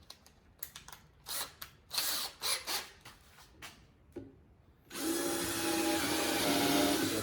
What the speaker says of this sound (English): We'll go ahead and screw the rest of the ends in.